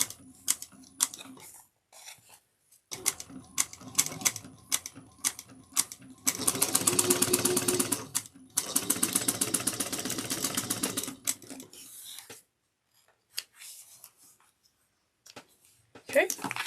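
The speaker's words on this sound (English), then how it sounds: "sew this with a 1/2 inch seam allowance. Back stitch at the beginning and at the end." A sewing machine stitches a tote bag seam at half-inch allowance, starting and stopping in short bursts with a longer continuous run in the middle, backstitching at the ends, while a person talks between stitches.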